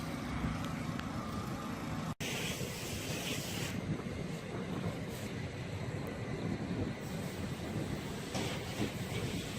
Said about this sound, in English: So we're backing our truck up.